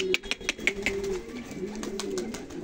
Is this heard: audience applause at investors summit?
no